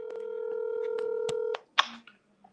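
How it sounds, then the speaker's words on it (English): Telephone dialing tones play over a speakerphone, a long steady touch-tone beep with faint clicks, then a short burst of line noise and quiet background clatter. "Let me call Roz on the phone"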